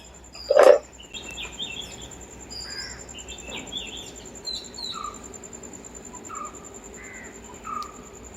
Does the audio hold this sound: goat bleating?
no